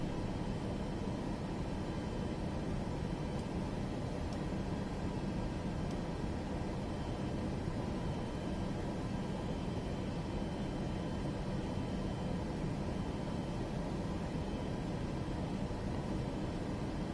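A jet engine spins up inside Microsoft Flight Simulator 2024, a steady broadband rumble and hiss holding constant and loud the whole way through, with no voices over it.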